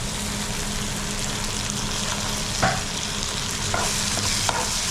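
Tomato, onion, ginger-garlic paste and curry leaves sautéing in oil, a steady close sizzle with a few soft scrapes and taps as the mixture is stirred.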